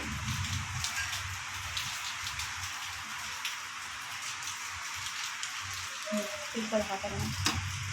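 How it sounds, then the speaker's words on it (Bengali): Steady rain falls outside, a dense even patter and hiss heard indoors, with faint kitchen clinks near the end. "দেখো বাইরে কীরকম বৃষ্টি আর"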